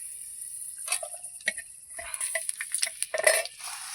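Chilies drop into a hot pan while cooking a tribal-style cauliflower dish, giving soft sizzles, scattered crackles and light clinks of a utensil against the pan, close and intermittent with no talking.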